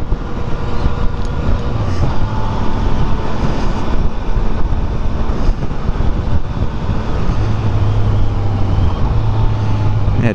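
Riding a 2015 Yamaha FZ-09 (MT-09) three-cylinder motorcycle, with steady loud engine and wind roar throughout and a low engine tone shifting pitch near the end as it downshifts with a throttle blip.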